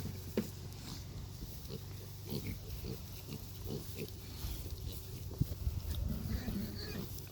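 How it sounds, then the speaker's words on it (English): New piglets on a farm on their first day outdoors, giving soft scattered grunts and snuffles amid low background rumble and occasional faint rustling, fairly quiet throughout. "That is a pretty pig."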